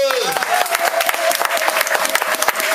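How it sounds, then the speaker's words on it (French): A church congregation bursts into loud, sustained applause to acclaim God during an evangelist's sermon, dense rapid clapping from a crowd that carries on throughout, with a voice rising briefly at the start. "Est-ce qu'on peut acclamer Dieu?"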